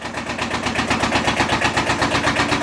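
A 50-year-old Kubota tractor engine idles close by with a rapid, even knocking pulse, steady and loud throughout with no talking.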